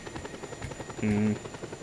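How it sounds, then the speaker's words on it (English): A respawned helicopter in the video game Just Cause 2 gives a continuous rotor buzz and chop under game ambience, with a brief louder tonal burst in the middle. "It looks like another helicopter has respawned there."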